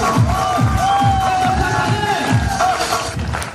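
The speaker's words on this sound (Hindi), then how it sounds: "मिस्टर अनु सर के लिए जोरदार ताली होनी चाहिए" A large crowd at an AWPL leadership gathering erupts with loud cheering and shouting over rhythmic, pulsing claps, a dense roar that holds steady before easing at the end.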